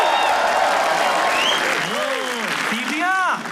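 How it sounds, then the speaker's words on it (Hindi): Audience applause for the next act at a comedy roast show, a dense patter of clapping under a rising and falling voice that carries over it. "तालियां प्लीज।"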